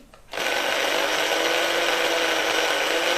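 A power drill bores into small elbow pasta (coquillettes), starting abruptly after a brief quiet moment and then running as a steady, loud, continuous whir for the rest of the clip with no talking.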